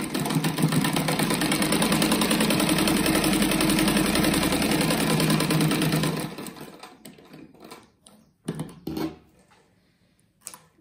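A sewing machine stitches a 4-centimetre fabric strip for a rug in a close, steady mechanical whir for about six seconds, then stops, leaving a few brief handling clicks and knocks.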